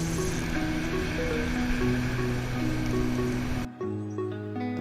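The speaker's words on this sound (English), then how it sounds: "With so much boat traffic, waves from the wake were inevitable." Boat-wake waves wash along the shallow flats of Perth's Swan River, a steady rushing surge with wind and water noise that drops off abruptly near the end, with low motor hum underneath.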